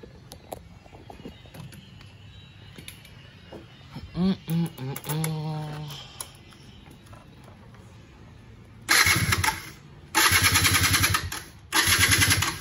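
A Yamaha F1ZR two-stroke motorcycle is cranked after a carburetor service. Kick-start attempts and brief sputters come first, then the engine catches in three loud revving bursts, with faint voices in the background.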